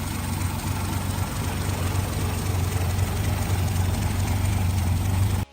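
A Chrysler Valiant SV1's 225 cubic inch slant six, an inline six tilted 30 degrees, runs steadily at idle with a deep, constant rumble, close and loud throughout, then cuts off abruptly at the end.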